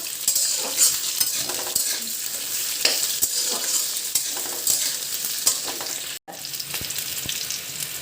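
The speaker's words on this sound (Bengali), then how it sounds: "এবার সবজিগুলোকে একটু ভাজা হতে দেবো। দেখো সবজিগুলো ভাজা হোক।" Vegetables fry in a pan with a continuous crackling sizzle, close by, punctuated by occasional stirring scrapes and one brief dropout.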